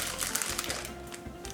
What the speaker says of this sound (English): in smaller plastic bags like this.